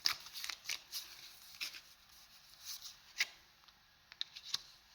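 Cards being drawn and shuffled, a series of soft, quick papery riffles and flicks, faint and close in a quiet room, with a few sharper snaps near the end and no talking.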